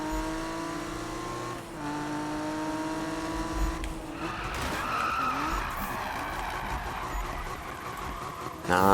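Car tires skid and squeal in the Need for Speed racing game, a Toyota Supra MK4 build, with engine harmonics sliding in pitch, a loud sustained screech building after midway and a sharp burst at the end, under light commentary.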